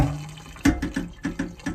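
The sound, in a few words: boiling water poured over a carbon steel pan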